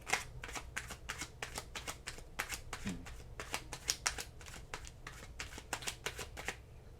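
Oracle cards being shuffled by hand, a quick run of crisp riffling bursts that repeats in a steady rhythm, close and clear, with a faint murmur in the background.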